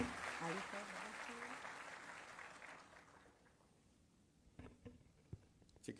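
An audience at a ceremony in Lucknow, where nursing officers receive appointment letters, gives applause that starts as a faint, distant wash of clapping with voices mixed in, then fades to a few scattered claps and light movement.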